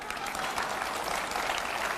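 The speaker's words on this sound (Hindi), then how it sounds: "यहां पर जो तालियां बज रही हैं" An audience claps steadily, a continuous brisk patter of many hands at moderate distance throughout the short stretch.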